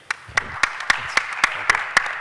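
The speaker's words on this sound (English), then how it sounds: "Big applause for the team, for the panel here." A small crowd applauds a panel at a technology success-stories event, with sharp, evenly spaced claps standing out over a soft background of scattered clapping, close and moderately loud.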